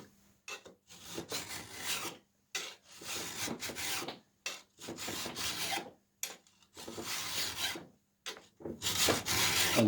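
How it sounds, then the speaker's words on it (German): A metal file drawn across the edge of a card scraper, rhythmic rasping strokes repeated about seven times with short pauses between them, close and clear with no talk. "Und dann kann ich mit meiner Feile ganz bequem hier drüber gehen."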